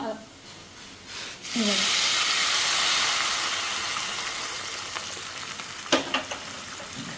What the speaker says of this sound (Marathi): इथे मी फोडणीमध्ये गरम पाणी घालते